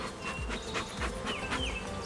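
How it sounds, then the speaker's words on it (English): Honeybees from an opened hive of laying queens buzz steadily close by, a continuous droning hum with individual insects swelling past now and then, with no talk over it. "you see all these bees flying everywhere, Blake?"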